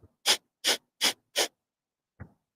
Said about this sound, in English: breathe out through our nose in forceful huffs